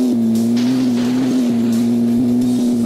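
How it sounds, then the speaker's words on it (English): Car engine in a mobile stunt-driving game, a loud steady drone held at one pitch throughout, with small hitches and faint hissy swells on top, no voices. "Look at this, look at the car sound. Listen the car sound."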